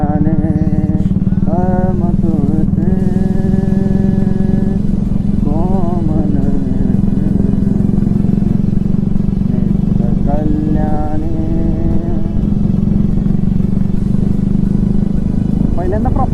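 Motorcycle riding along a road on a trip, its steady engine and wind drone running loud and continuous throughout while someone talks over it.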